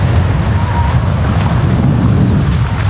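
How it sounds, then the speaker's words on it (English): Strong wind roars steadily by the sea at Puerto Morelos, near Cancun, Mexico, with rough waves and surf churning underneath in a loud, continuous rush. "it's really rough and windy at the moment"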